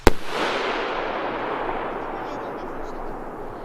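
Überstürmer FR30-GS firework rocket bursting, one sharp crack followed by a long, broad crackling hiss that slowly fades over several seconds, loud and outdoors.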